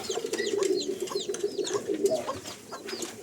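A pigeon coos steadily in a low, rolling murmur in a poultry yard with roosters and a parrot, while sharper chirps from other small birds flit over it, close and moderately loud.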